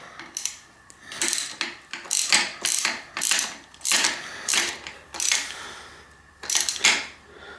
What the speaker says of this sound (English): Get this fitted into the bolt and start screwing it in. And then use the wrench.